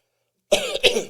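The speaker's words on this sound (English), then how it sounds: "So I should cough before I start." After a moment of silence, one person coughs twice in quick succession, loud and close.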